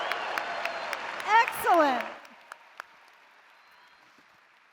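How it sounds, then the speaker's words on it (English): A graduation commencement crowd applauds and cheers, a dense wash of clapping that fades out after about two seconds as a speaker's voice comes through over it, leaving near silence with a few scattered claps. "graduates, you deserve that loud applause"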